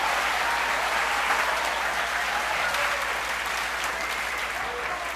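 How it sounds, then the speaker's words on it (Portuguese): A church congregation applauds during a sermon, a loud and steady wash of clapping close by that holds evenly throughout. "Se você está aplaudindo o Nazareno, faça isto com entusiasmo"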